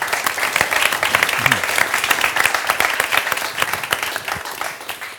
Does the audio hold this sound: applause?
yes